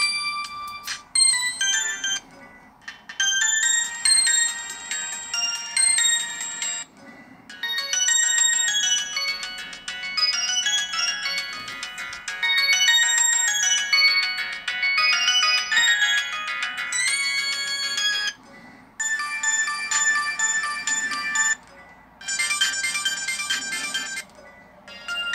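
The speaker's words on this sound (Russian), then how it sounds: "Я смотрю, очень много мелодий на данном телефоне." Ringtone melodies from a 2006 Samsung D900 slider mobile phone play one after another, bright electronic tunes with short pauses between them, loud and close with no talk.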